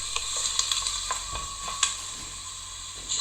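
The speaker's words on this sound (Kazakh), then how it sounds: "Чеснокты қосып, оны да әбден араластырамыз." Garlic sizzles in a pan while being stirred for a vegetable ragout, a close, continuous hiss broken by light spoon taps and scrapes against the pan, with no talking.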